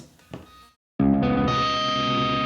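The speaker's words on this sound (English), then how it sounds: "Here's with the first delay." Distorted electric guitar played through a Friedman handwired 100-watt amp and a Marshall 4x12 cabinet with Greenback speakers, using a short slapback delay. A brief muted strum is followed by a silent gap, then a loud, sustained chord ringing out.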